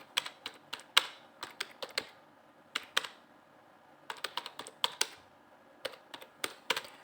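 Someone types on a computer keyboard while filling an online form, producing quiet, irregular clusters of crisp keystrokes separated by short pauses, with no talk.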